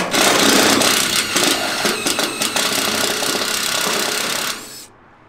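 A power drill with a step bit grinds loudly through material, widening a pilot hole for trailer lights, in a steady, rough whine for several seconds, then cuts off abruptly near the end.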